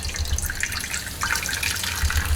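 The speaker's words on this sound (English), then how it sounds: "the milk is already dripping out." Almond milk drips and trickles through a fine mesh bag, making a close, continuous watery patter with scattered splashy drops, steady and fairly loud with no talking.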